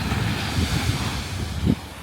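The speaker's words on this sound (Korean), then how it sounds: "파도가 생각보다" Ocean waves wash onto the beach at Viña del Mar, Chile, a steady rushing surf mixed with wind buffeting on the microphone, moderately loud and continuous.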